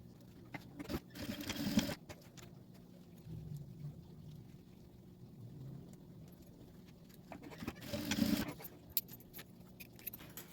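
A sewing machine stitches a child's backpack strap, running in two short bursts near the start and again around the eighth second, with quieter handling and shuffling of fabric between runs.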